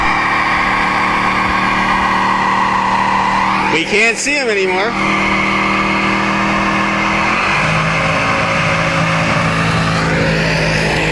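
A 1972 Ford Mustang Grande doing a burnout: a loud, steady engine roar with squealing tires that sharpens for a moment midway, while a person briefly speaks over it.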